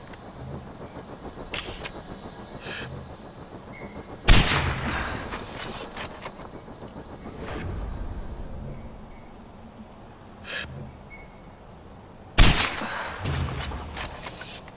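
Far Cry 4 video game gunfire: two sharp, loud gunshot blasts stand out against a quieter rumbling backdrop, with a few fainter cracks scattered in between.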